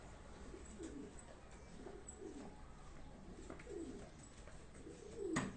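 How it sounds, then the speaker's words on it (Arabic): Pigeons coo softly and repeatedly in a low, rolling rhythm during a bird-catching outing, several calls spaced a second or so apart over steady outdoor background noise, with a brief louder rustle near the end. "ضلها الحمام خايفة من المقلب."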